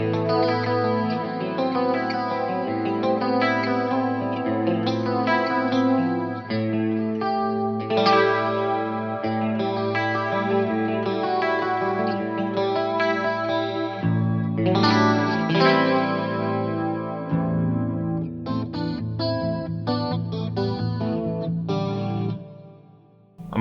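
A clean electric guitar tone from split coils in the middle pickup position rings out through a quad chorus and a spacious Coliseum reverb. Chords and melodic phrases play for over twenty seconds, shimmering and wide, with no voices.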